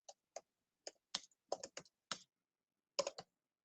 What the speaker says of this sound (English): type in your search here